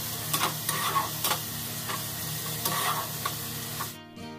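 Ground masala for fish biryani fries in a pan, a steady close sizzle with intermittent stirring scrapes, ending abruptly.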